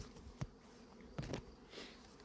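Honeybees at a hive on a terrace, a faint airy buzz with a few brief louder passes of single bees flying close by, no voices.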